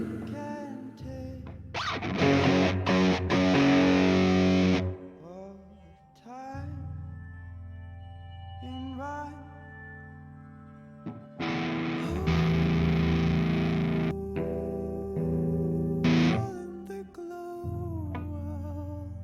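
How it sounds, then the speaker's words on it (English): Song drenched in a big reverb effect, with distorted, effects-heavy music swelling in loud washes that fade and return over about twenty seconds, with no voices talking over it. "there's the big reverb"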